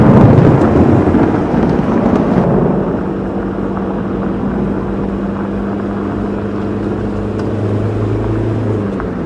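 In a horror game, a night thunderstorm strikes during a drive: a loud, broad thunder roll fades gradually over a steady low engine drone. No one speaks.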